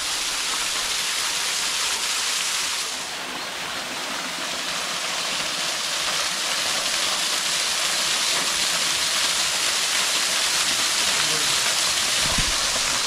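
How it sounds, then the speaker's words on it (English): A waterfall at a bay in Tobago roars as a loud, steady broadband rush of falling water, constant throughout with no pauses. "The beautiful waterfall bay,"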